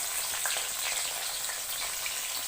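Onions go into hot oil in a wok, producing a fairly quiet, even hiss of frying that holds steady for the whole stretch, close by and alone.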